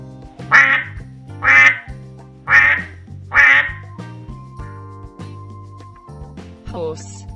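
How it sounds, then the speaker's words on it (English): A duck quacks four times in an even rhythm, loud and close, over a soft musical backing, followed by a brief higher sound at the end. "Duck."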